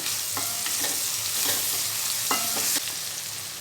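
Ginger garlic paste sizzles and fries steadily in a hot pan, with a continuous close crackling hiss and a few brief stirring scrapes, no voices.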